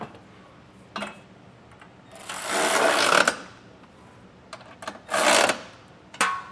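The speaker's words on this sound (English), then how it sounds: "Now we'll grab an 11/16 socket and get all of our hardware snugged down." A socket wrench snugs down the hardware of a Curt Class II trailer hitch on a 2025 Honda CR-V, giving two longer bursts of rapid ratcheting clicks between short clicks and pauses, close and alone.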